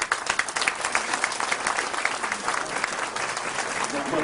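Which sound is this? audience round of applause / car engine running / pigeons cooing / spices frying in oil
audience round of applause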